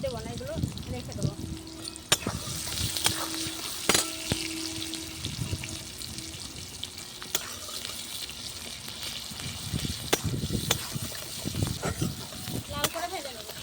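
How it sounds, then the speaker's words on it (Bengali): Tempering spices fry and sizzle in oil on a clay stove, a steady close crackle with clinks and stirring scrapes. A voice speaks over it. "লাল করে ভেজে নেবো।"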